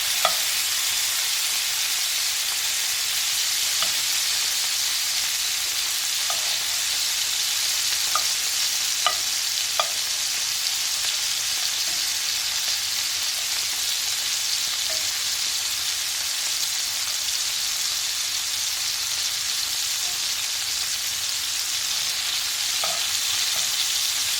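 Steak bites sear in a hot pan with a steady, loud sizzle that runs the whole time, broken by a few faint clicks and taps, with no talking.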